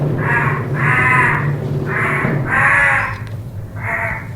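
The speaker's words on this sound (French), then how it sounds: "dans le ciel, un vol perpétuel de corbeaux et d'oiseaux de proie." Crows cawing as a sound effect in a French radio drama set at the old Montfaucon gibbet, a loud nearby flock giving five harsh rasping caws in a steady sequence with no voices over them.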